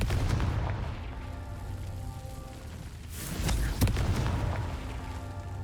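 Confringo fire spell blast in Hogwarts Legacy, a moderate booming burst with crackle landing mid-clip over a low rumbling game ambience, followed by a sharper impact.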